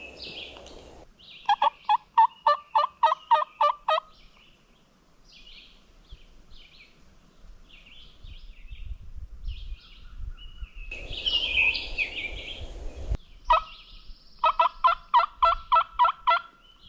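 Several wild turkey toms gobble on a wooded ridge in Arkansas public land during spring season, sharp rattling bursts in quick series at the start and end, moderately near, with wind and rustling noise between calls.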